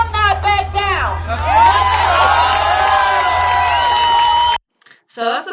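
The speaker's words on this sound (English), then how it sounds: "So that's a big crowd out in Lansing, Michigan." A large political rally crowd in Lansing, Michigan cheers and whoops loudly and steadily, a dense wall of voices that cuts off abruptly near the end before a few scattered shouts return.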